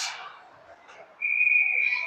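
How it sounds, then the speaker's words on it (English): A referee's whistle at an ice hockey game gives one loud, sustained shrill blast that starts partway through and holds to the end, above a quieter murmur of rink noise. "We're going to have a whistle."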